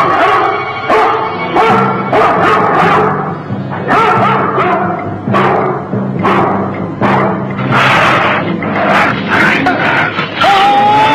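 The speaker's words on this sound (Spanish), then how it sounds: "esos perros son bravos" Several fierce dogs bark repeatedly and loudly at close range, with overlapping sharp yaps and barks throughout, and a few brief shouts from people in between.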